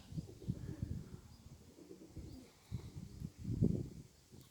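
Racing pigeon cooing close by in soft, low bursts of repeated coos with short pauses, strongest near the end, with no talking.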